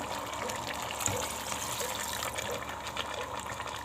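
Water poured steadily from a container into a pot of potatoes during home cooking, a continuous soft rushing splash at close range with no talking.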